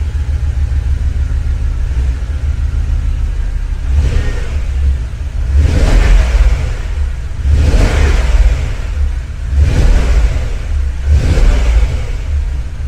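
Inside the cabin of a Porsche Cayenne Turbo fitted with a secondary catalytic converter bypass, a deep engine rumble swells in several repeated revs that rise and ease back, muffled and steady with no talking.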